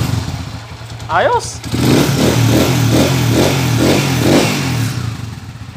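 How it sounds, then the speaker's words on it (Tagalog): A motorcycle engine fitted with a new timing gear revs in a few rising bursts, then settles into a smooth, steady run close by, with someone speaking briefly over it. "Napakasilensyo na ng andar ng motor mo boss."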